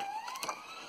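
A siren wailing outside a library, a faint, rising tone that sweeps up briefly and is heard from a distance.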